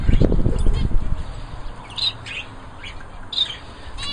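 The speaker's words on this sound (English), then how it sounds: "This is the birds enjoying some purple sprouted broccoli from my" Canaries chirp and squawk in short scattered bursts while feeding on purple sprouting broccoli, a low rumble of handling noise at the start before the calls carry on alone.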